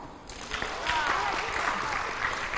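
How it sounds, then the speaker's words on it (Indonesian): Applause from a school audience at SMKN 6 Palembang, a dense wash of many hands clapping that swells and holds steady, with voices mixed into the crowd noise. "Tepuk tangan dong."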